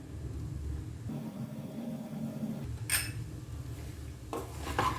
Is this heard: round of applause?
no